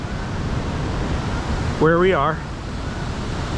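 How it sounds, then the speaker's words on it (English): Water pours over the main falls ledges at Ohiopyle on the Fern Cliff side as a steady, broad rushing roar, with someone speaking briefly over it. "The water here at the main falls ledges on the Fern Cliff side"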